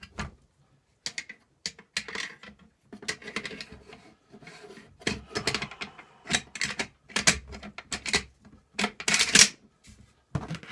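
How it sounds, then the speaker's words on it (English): Bolt being fitted into a MAK 91 rifle, a series of close metallic clicks, scrapes and rubbing handling noises in irregular bursts, with no talking. "Now we're going to put in our bolt."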